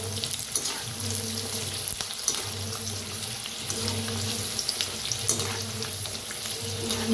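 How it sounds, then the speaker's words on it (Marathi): Garlic and curry leaves fry crisp in hot oil, a continuous close sizzle and bubbling with a watery hiss and occasional stirring, no voices. "असं तळलं जाते बघा ह्याच्यातच तळायचं"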